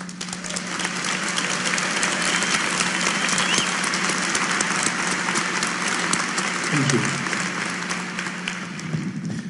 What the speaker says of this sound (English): That was applause if you couldn't hear it.